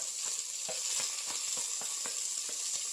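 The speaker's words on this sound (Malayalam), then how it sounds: "അതിലേക്ക് നമുക്ക് ഈ സവോള ചെറുതായി അരിഞ്ഞത് ഇട്ട് കൊടുക്കാം. ഈ പച്ചമുളകും കൊടുക്കാം." Finely chopped onion and green chillies frying in a pan for egg curry, an even dense sizzle with soft regular stirring taps roughly every quarter second, close and continuous.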